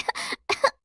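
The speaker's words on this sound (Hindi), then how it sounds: "हर तरफ खांसने की आवाजें आ रही थी।" A cartoon bird coughs in two short bursts of rough, hacking coughs separated by a brief pause, close and clear with no other sound.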